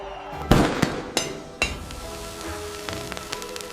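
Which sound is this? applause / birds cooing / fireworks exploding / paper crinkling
fireworks exploding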